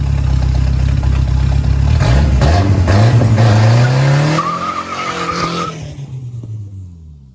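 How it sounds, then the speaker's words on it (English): A Mustang doing a burnout, its engine roaring loudly and tires squealing as the revs climb, then fading and dropping away near the end. "It did do a burnout"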